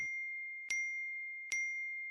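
A phone message notification ding, three clear bright chimes about a second apart, each ringing on as the next one lands, heard alone.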